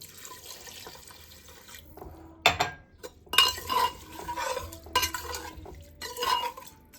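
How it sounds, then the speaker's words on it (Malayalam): Water running and splashing into a pot of rice in a kitchen, arriving in several separate bursts of pouring with short pauses between them, close and fairly loud. "അതിലേക്ക് ആവശ്യമുള്ള വെള്ളം നമുക്ക് ഒഴിച്ചു കൊടുക്കാം"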